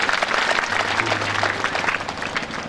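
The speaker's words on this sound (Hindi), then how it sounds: "जोरदार ताली बजा दो यहाँ की युवा टीम," Hearty applause from a seated audience at a Hindu Shrimad Bhagavat katha, a steady wash of many hands clapping close and loud throughout, with a faint low tone underneath.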